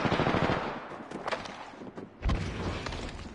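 Video game gunfire during a squad firefight: rapid automatic bursts crackle at moderate volume, broken by a short lull and a heavier blast before more firing, with no voices.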